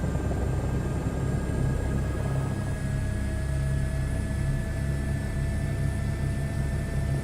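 An H125 helicopter gliding in a flight simulator, a steady close rotor and engine drone with a whining turbine tone, unbroken and fairly loud throughout.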